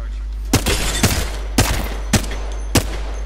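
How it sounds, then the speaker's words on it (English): Gunfire from enemies in the video game Apex Legends: four or five sharp, loud shots at irregular intervals over a steady low rumble, with faint activity between bursts. "The enemies are shooting at me."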